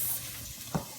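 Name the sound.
food frying in a pan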